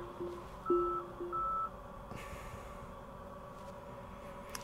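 Tesla parking warning beeps sounding while the car pulls into a garage: a few steady electronic tones, the longer ones held, the later ones faint, over a quiet low hum, with no talk.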